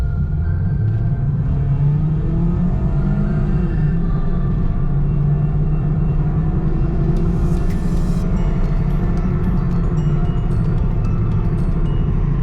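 A 2006 Hyundai Tiburon GS on new coilovers accelerates hard, its loud engine roaring continuously with a rising tone and heavy rumble heard from inside the cabin.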